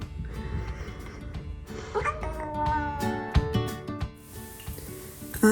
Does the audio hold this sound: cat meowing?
yes